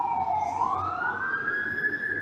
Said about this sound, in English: hear the fire trucks and the police cars going by